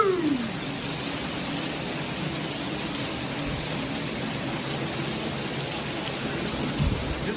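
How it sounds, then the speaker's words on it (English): Hail falling on freshly planted plants in Bako during an April storm, a steady close hiss of pelting ice and patter that runs unbroken at moderate level. "Look at this hail."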